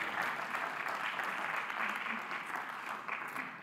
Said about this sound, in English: Big applause and congratulations.